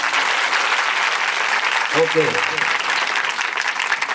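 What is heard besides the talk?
audience applause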